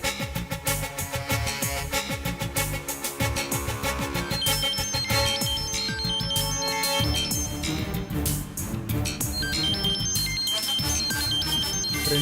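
A phone ringtone plays as a repeating melodic tune, loud and continuous for the whole stretch with a dense, rhythmic pattern, and no talking over it.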